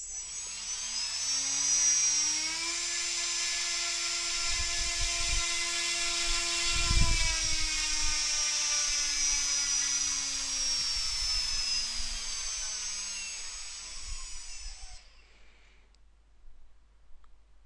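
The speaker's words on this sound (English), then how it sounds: "it runs a complete test to characterise the motor and propeller" An electric motor with a propeller on a thrust test stand spins up in stepped stages, giving a loud, whining, helicopter-like drone with faint clicks, then cuts out abruptly near the end.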